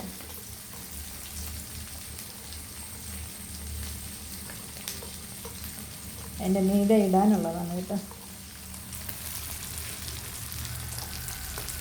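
Prawns frying in oil that has already been used once make a soft, continuous sizzle, and someone speaks briefly over it partway through.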